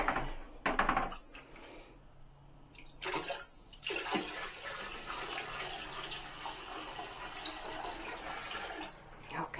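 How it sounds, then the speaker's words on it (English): A bucket of dirty water gets dumped out in bursts, with loud gushing splashes early on, then a long, steady pour and trickle draining away close by. "Now we're gonna go over here and dump out the dirty water."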